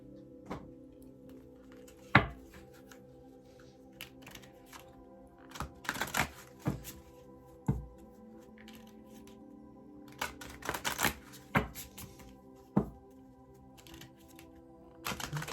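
Elemental Oracle cards are handled in a quiet room, with soft irregular riffles and flicks, some sharper snaps and thumps in bursts between pauses, close by.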